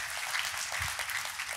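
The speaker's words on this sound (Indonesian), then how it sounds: "Kita kasih tepuk tangan yang paling meriah buat Tuhan." A church congregation applauds with steady, moderate clapping that carries on throughout, with no voices rising above it.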